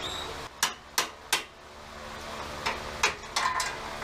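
A screwdriver ground into a chisel is hammered to split a spot weld on a 1965 C10 truck bed in a shop, giving sharp metallic strikes in two bursts of three, close and clear over a steady background hum.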